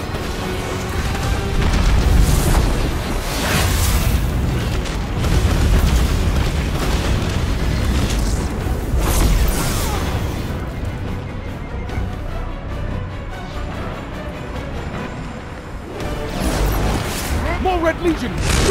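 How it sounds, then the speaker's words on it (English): Missile explosions in Destiny 2 rumble and boom heavily through most of the stretch, one blast running into the next, with spoken voices over the top. "Missiles! Stay inside my shield!"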